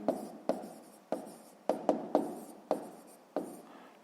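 Pen strokes scratching on paper as a digit is written by hand during a sixth-grade math exercise, a series of short, close, quiet scratches in an irregular rhythm with no other sound.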